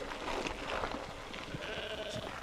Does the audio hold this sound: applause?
no